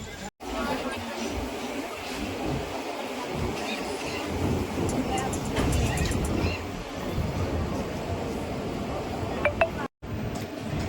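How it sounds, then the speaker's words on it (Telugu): A Venkatadri Express passenger train pulls into Umdanagar station with a steady, loud rumble of wheels and carriages, a few metallic clinks near the end, and talk over the noise. "మన ట్రైన్ వచ్చేసి మన సెకండ్ స్టాప్ ఉమ్దానగర్కి అయితే వచ్చింది"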